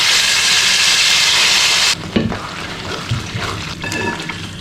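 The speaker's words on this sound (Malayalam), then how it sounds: "ഇതിലേക്ക് നമ്മൾ ഈ ഉടച്ചെടുത്തിട്ടുള്ള ഉള്ളി ഈന്തപ്പഴ കൂട്ട് ഇതിലേക്ക് ചേർക്കാം." Onion and date mixture hits hot cow ghee with a loud, bright sizzling hiss that stays steady, then drops suddenly into quieter crackling and stirring clatter.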